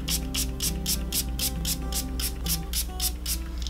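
A Too Faced Peach Mist setting spray gives a fast, even series of about a dozen short hissing spritzes, close and fairly loud, with no talking.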